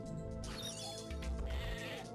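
A sheep bleats once in the Game Boy Advance game Tak and the Power of Juju, a short, quiet, wavering call over faint game music.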